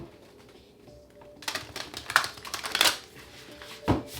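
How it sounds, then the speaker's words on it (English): Cards being shuffled in quick riffling bursts, a crisp flutter of rapid clicks, followed by a single sharp tap. "let's get 2 more shuffles"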